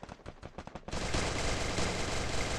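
Rapid automatic gunfire from a Free Fire mobile battle match: a few short bursts of shots, then a sustained loud continuous stream of fire with no talk.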